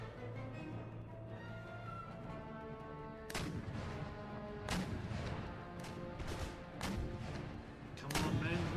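Howitzer artillery in Empire: Total War fires in several heavy booming blasts over a steady droning battle bed, the shots spaced a second or two apart and growing more frequent toward the end.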